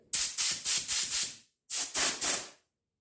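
Short bursts from a Harbor Freight air blow gun, five quick blasts, a pause, then three more, loud and close with no talking.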